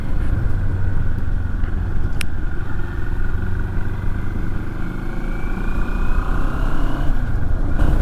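Moto Morini X Cape 650 motorcycle engine under way while riding, a steady continuous drone with broadband wind rush, loud and close throughout with a slight rise near the end.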